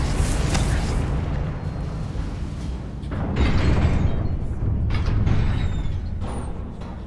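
Confringo fire spells burst in Hogwarts Legacy as a continuous, loud roar of explosions, with rumbling booms swelling and overlapping for several seconds.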